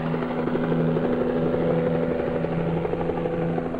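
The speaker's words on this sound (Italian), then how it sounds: "L'elicottero che va e viene dall'isola alla terraferma fa parte ormai del piccolo grande mondo del petrolio." Helicopter shuttling between an offshore oil drilling platform and the mainland, a loud, steady rotor drone with a low pulsing hum throughout, alone without voices.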